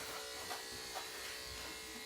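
Electric hair clippers fitted with a comb attachment buzz steadily and quietly at close range during a haircut, with a faint voice in the background.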